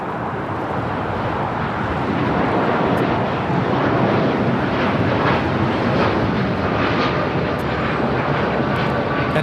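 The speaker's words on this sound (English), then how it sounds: "That is Aeromexico 647 taking off to Mexico City on the 787-9 Dreamliner" An Aeromexico Boeing 787-9 Dreamliner takes off from LAX with a loud, continuous engine roar that stays strong and steady throughout, with no talking.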